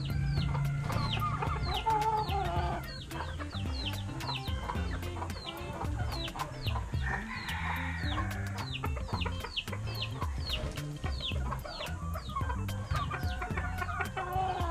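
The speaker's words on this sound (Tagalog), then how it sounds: "So ito nga mga manok natin mga idol sa tira." Rhode Island Red and native chickens cluck repeatedly in a farmyard, with rapid overlapping clucks and occasional crowing-like calls at close range, a busy, continuous flock chatter with no speech.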